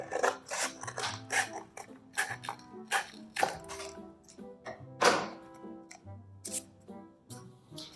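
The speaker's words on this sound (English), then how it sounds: "we're going to take our paper towel roll and we're going to cut a little bit off" Scissors snipping through a cardboard paper towel roll, a series of crisp, close cuts and thunks in an irregular rhythm, alone with no talking.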